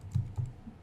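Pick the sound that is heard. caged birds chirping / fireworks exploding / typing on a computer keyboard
typing on a computer keyboard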